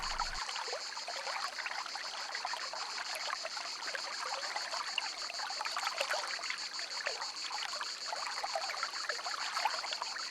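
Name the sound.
forest stream trickling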